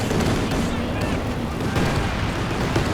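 Howitzer artillery and constant gunfire crash through a Company of Heroes 2 3v3 late-game tank battle, a dense, steady roar of shots and blasts under a talking voice.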